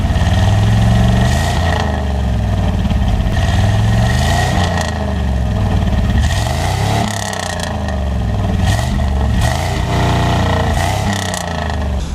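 A Chevrolet Camaro IROC-Z running on its original exhaust, catalytic converters and mufflers gives a steady, loud, deep engine rumble that holds throughout, with no voices.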